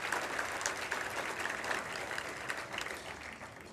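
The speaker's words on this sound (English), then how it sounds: "So if we could do one more round of applause and thank all these representatives for being here" An audience at a college hall of fame event applauds, a dense, steady wash of clapping from many hands that carries on throughout and fades slightly toward the end.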